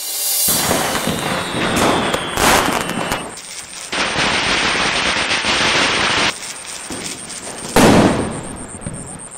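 Firecrackers burst in rapid, crackling volleys, loud and close, with short pauses between bursts and a sharp bang near the end.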